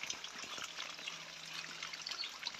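Water from a running hose trickles and splashes steadily into a wooden barrel being swelled for plum brandy, a close, continuous liquid pouring sound with no voices.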